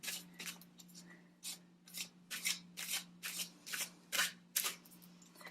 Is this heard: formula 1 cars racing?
no